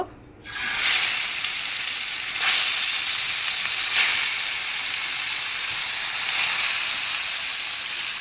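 Spice-marinated fish frying in a pan, a loud, steady hissing sizzle that starts abruptly and holds for several seconds, swelling briefly now and then, with no talking.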